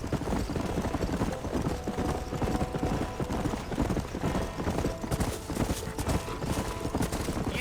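Horse hooves trot at a steady, quick rhythm in the Red Dead Redemption western game, clip-clopping continuously and fairly loudly, with a faint background bed and no audible talk.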